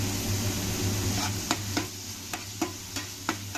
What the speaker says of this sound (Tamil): இப்போ திருப்பியும் 5 மினிட்ஸ் வதக்கணும்.